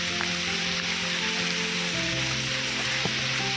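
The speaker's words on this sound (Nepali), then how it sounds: "असिना पर्यो, असिना।" Hail falls steadily at Phulchoki, a dense, even patter of ice pellets hitting surfaces, with no voices over the continuous hiss.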